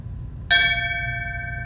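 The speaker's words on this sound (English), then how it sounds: "Let us now toll the bell once in dedication to all the military personnel" A memorial bell at a Patriot Day ceremony struck once, a sharp clear clang that rings on with a long steady hum of overtones fading slowly, alone over a faint low rumble of the outdoor setting.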